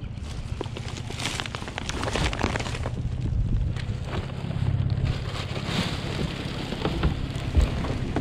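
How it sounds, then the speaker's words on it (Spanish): Rain falls outdoors in a steady patter mixed with wind noise buffeting the microphone, with scattered sharper drops and rustles over a continuous wash of sound. "Y ya está lloviendo."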